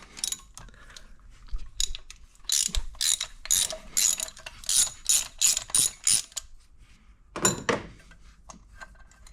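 Ratchet wrench with a deep-well 5/8 socket working loose spark plugs on a 2009 BMW 128i N52 engine: bursts of close, loud rapid clicking pawl sounds in repeated strokes, then a final short run after a pause.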